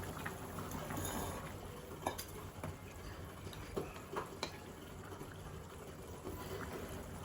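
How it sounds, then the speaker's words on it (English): A pot of potato egg curry simmers quietly with a soft, steady bubbling hiss and occasional faint pops and clicks. "So now the curry is cooking, boiling."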